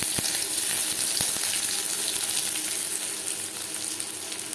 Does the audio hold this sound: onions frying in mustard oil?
yes